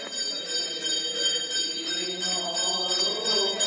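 A bright Hindu temple bell at a Shiva temple rings steadily with sustained metallic overtones, fairly close and clear, its tone lingering without pause.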